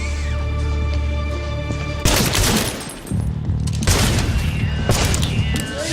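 A burst of gunfire in an action film erupts midway, rapid loud shots and crashing impacts over a droning, tense background score, with a second volley following shortly after.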